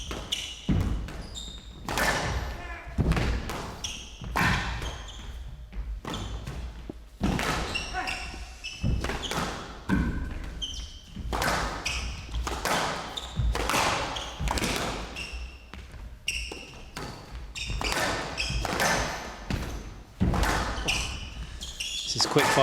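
Squash ball struck back and forth in a fast professional rally at the Manchester Open, sharp repeated thwacks and wall bounces at a quick, uneven pace, heard under continuous commentary from two voices.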